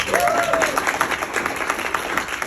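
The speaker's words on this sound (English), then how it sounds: "Can we all give them a round of applause?" Audience applause at the Animal and Vegan Advocacy Summit in Los Angeles, a dense, steady clatter of many hands filling the hall, with a brief whistle or voice rising through it near the start.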